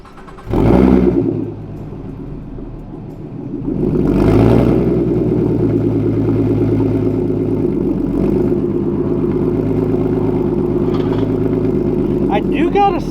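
An S550 Mustang with a cam tune cranks and fires, flares loud, settles briefly, then rises to a steady, lumpy, aggressive idle that keeps rumbling up close.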